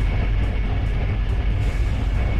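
Trains rumble along in the Chris Sawyer's Locomotion railway game, a loud, steady low-heavy roar with no break over a couple of seconds.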